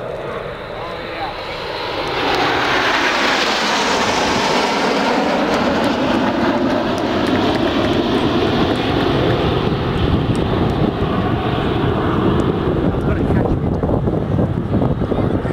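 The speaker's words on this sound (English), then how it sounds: "Ladies and gentlemen, this is Concorde." A Concorde jet airliner roars overhead at an air display, a loud, broad, sustained engine thunder that swells within a couple of seconds and stays heavy throughout.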